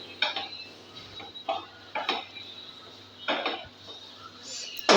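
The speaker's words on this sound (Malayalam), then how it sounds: "ചിക്കൻ വേവിച്ച് പൊടിച്ച് വെച്ചത് കൂടി ഇതിലേക്ക് മിക്സ് ചെയ്യാം" Cooked, shredded chicken being mixed into a potato cutlet mixture in a bowl gives scattered bursts of spoon-on-dish clinks and scrapes, close and moderately loud, separated by short pauses.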